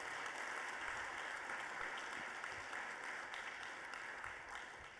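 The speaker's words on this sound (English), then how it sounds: "Let's give them a round of applause." A conference audience at a California climate advocacy gathering gives a sustained round of applause for the catering team, a dense, even wash of clapping heard from some distance and fairly soft.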